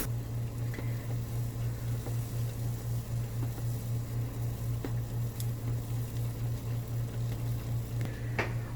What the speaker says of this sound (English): Water is boiling.